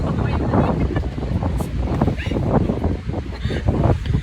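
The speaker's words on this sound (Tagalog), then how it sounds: "Tapos grabe ang lamig dyan. Yung hangin since nasa dagat." Cold sea wind buffeting the microphone aboard a boat near Tsim Sha Tsui, steady rushing gusts with water noise beneath.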